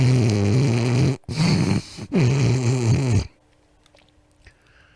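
A man imitates a nasal snore with his voice, three loud rattling snorts in quick succession with brief breaths between, followed by near silence.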